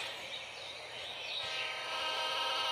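A train in the Roblox video game rumbles past with a steady, broad mechanical roar that swells slightly louder toward the end, with no talk over it.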